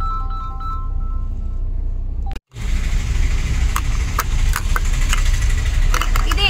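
Car engine running steadily during a Christmas night drive through Nagercoil, a continuous loud rumble with a brief dropout partway, then resuming with faint background voices.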